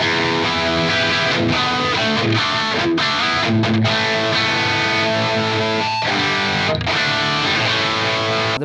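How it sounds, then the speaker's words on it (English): An Ibanez RG470DX electric guitar with medium-output pickups plays crunchy distorted chords and riffs, loud and continuous with sustained driven tones and brief choked pauses. "So now let's move over to some crunch tones."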